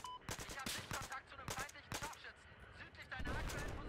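Gunfire in the video game Battlefield, with a sniper firing from a distant hill: a rapid series of sharp cracks and bursts, some spaced, ending in a louder rumble, fairly faint overall.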